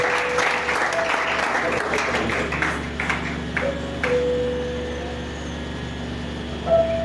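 A church congregation claps in dense, continuous applause that thins out after a few seconds, with sustained ringing tones carrying on afterward.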